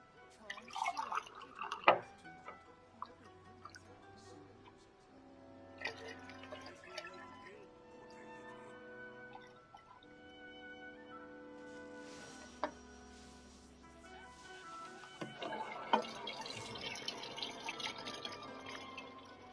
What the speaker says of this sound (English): And I'm just refilling some water.